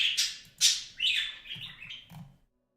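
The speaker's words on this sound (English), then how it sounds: "The birds are a lot more noticeable." Pet birds chirp indoors in a room, a few bright, close tweets and short squawk-like calls in quick bursts that fade out into silence at the end.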